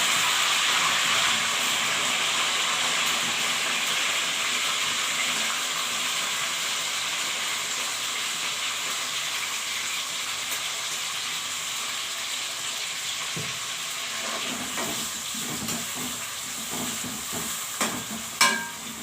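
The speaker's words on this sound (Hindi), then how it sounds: "ऑयल मैंने गर्म होने के लिए रख दिया। अब मैं इसमें शामिल करूँगी प्याज" Sliced onions hissing and sizzling in hot oil in a pan, a loud, continuous close frying hiss that eases slightly over time, with a few stirring knocks toward the end, no talking.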